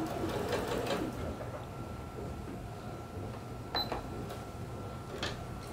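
A home sewing machine runs a long gathering stitch in a steady mechanical whir, with a few light clicks and taps toward the end, no talking.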